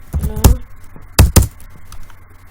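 Typing on a laptop keyboard during a Minecraft server session: a few sharp, close key clacks in two separated bursts with quiet gaps between.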